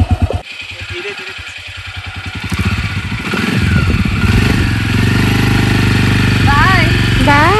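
An ATV engine runs and revs as it is ridden outdoors, a rough throbbing growl that builds steadily in loudness, with people talking over it throughout.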